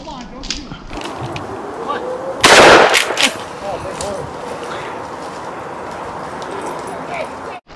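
A single loud gunshot cracks out during a small game squirrel hunt with beagles, followed by ringing outdoor ambience, with people talking quietly before and after the shot.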